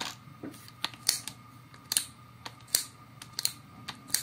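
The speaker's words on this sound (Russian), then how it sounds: "То есть блокировка не электронная, блокировка механическая. Путем щелчка патрона." Sharp mechanical clicks from the keyless chuck lock on a LUDYVI BL150 cordless hammer drill-driver, about a dozen crisp, close ticks at uneven intervals over a quiet background, with no one speaking.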